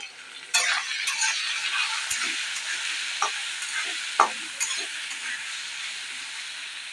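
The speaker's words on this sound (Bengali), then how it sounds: "কালারের জন্য হলুদ দিয়ে আমি ভালো করে আলুটাকে ভেজে নেব" Potato pieces frying with turmeric and salt in a pan, a soft steady sizzle broken by several scraping stirs and clinks of a spatula, heard close with no voices.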